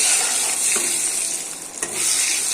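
Spiced meat stir-fried in a pan with meat masala, panch phoron powder and garam masala, giving a steady close sizzle with scraping spatula strokes and no voices.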